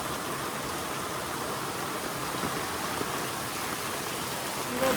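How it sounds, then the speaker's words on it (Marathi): Heavy monsoon rain pours over Saygaon village, a dense, unbroken hiss at steady loudness throughout, with no pauses or distinct drops. "आवाज किती येतोय माहिती नाही कारण पाऊस खूप आहे"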